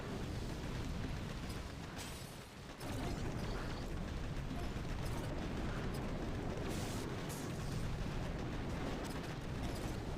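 Dense, continuous rumbling blasts from grenadier troops in the mobile strategy game Boom Beach, a loud unbroken barrage of booms with a brief dip near the start.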